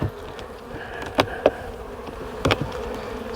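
Honeybees buzz around a small hive at close range, a soft steady hum broken by a few louder buzzes as insects fly past the listener.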